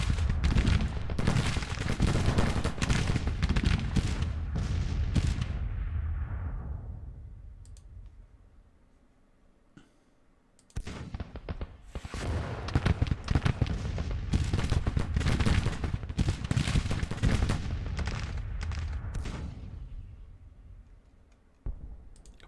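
Massed musket volleys from a full infantry division in the Civil War strategy game Grand Tactician: The Civil War, dense crackling gunfire that dies away midway, then resumes as a sustained rattling barrage.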